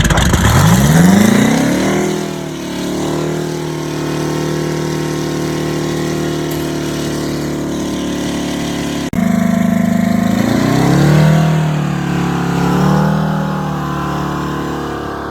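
An 8V71 two-stroke Detroit Diesel engine in a tour bus roars up loudly, settles into a steady throbbing drone, then revs up again after a brief cut, close and dominant.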